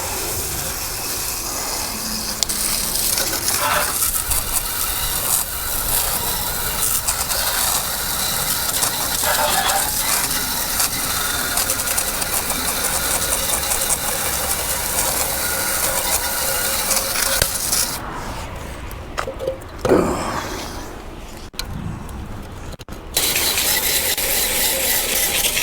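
A pressure washer or hose blasting a filthy blower wheel and housing clean gives a loud, steady hissing spray that runs almost nonstop for about 18 seconds, then breaks into shorter bursts and pauses near the end.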